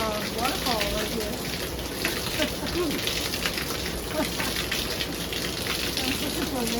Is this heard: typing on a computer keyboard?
no